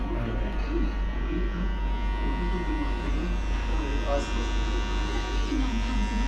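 An electric hair clipper buzzes steadily and close as it shaves a head at a barber on Phi Phi island, under continuous talk from people nearby.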